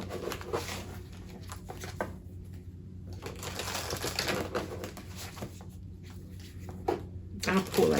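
Tarot cards being shuffled by hand, with soft repeated riffling and slapping bursts in quick irregular runs, faint and close, over a low steady background hum.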